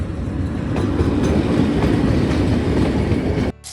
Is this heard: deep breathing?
no